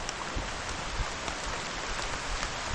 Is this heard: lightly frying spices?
no